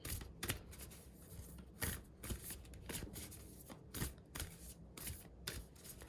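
Soul transmission oracle cards shuffled by hand in a steady run of crisp riffling flutters and soft slaps, close and fairly quiet, with no voice over them.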